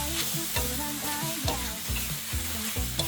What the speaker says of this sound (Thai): ผัดทุกอย่างให้เข้ากันอีกทีหนึ่ง ตามตกท้ายด้วย ใบโหระพาครับ